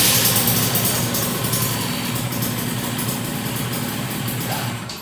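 A Kawasaki Ninja 150 RR SE two-stroke motorcycle idles with a buzzy, crackling engine note that sounds steady and close, slightly uneven in its popping rhythm and fading a little toward the end.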